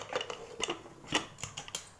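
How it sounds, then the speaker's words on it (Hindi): A few sharp metallic clanks and clicks as a pressure cooker lid is set and locked into place, with short pauses between the knocks. "कुकर की लिड लगा लेंगे"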